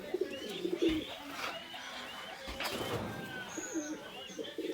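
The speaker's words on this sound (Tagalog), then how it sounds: "Yang bird ko to guys" A pet pigeon or dove coos softly and repeatedly at close range, with a few faint chirps from other birds in the background and a light ambient hiss.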